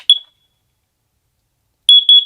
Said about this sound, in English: I also do have a little carbon monoxide alarm.